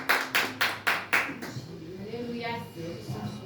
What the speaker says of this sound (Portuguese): Vamos estar recebendo o servo do Senhor com as palmas bem alegres